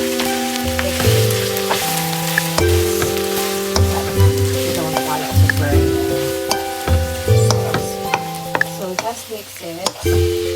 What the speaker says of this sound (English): Lastly, we add the sauce, so the one we mixed earlier